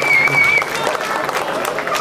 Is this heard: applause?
yes